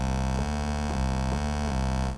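A Moog synthesizer's first oscillator plays a buzzy, harmonically rich sustained tone with a steady low pitch, retriggered in an even pulse about every 0.4 seconds, close and loud with no voices.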